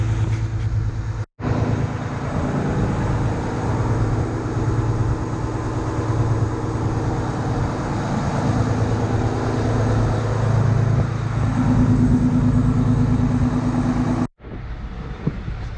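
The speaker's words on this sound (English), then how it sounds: "after regen start, the RPMs went up to like 1100" Continuous low drone of a Volvo truck engine held at raised idle around 1100 RPM during a forced DPF regeneration, steady and close, with a faint whine rising later and two brief dropouts.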